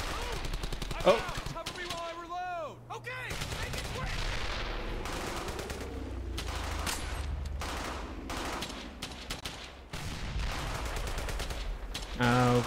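Bursts of gunfire and machine-gun fire from the World War II shooter Brothers in Arms: Hell's Highway crack through a battle soundscape, repeated rapid volleys with explosive thuds, while a player briefly exclaims over it.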